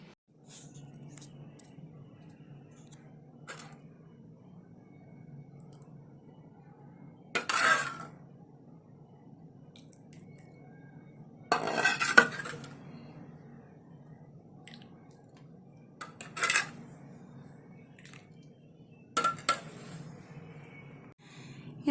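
Milk curry, dudh ka salan, is served into a dish in a home kitchen: a handful of separate metallic clinks and scrapes of a utensil against the pot and dish, spaced out between quiet pauses.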